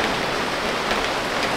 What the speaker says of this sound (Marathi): एकदम जोरदार पाऊस आहे पालघरमध्ये.